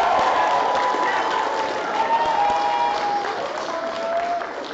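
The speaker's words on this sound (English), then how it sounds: "Give them a cheer, everybody." An audience cheers and applauds at the Whangaparaoa College school music festival, a steady roar of clapping and shouts filling the hall for the whole stretch, with a few whistle-like tones rising above the crowd.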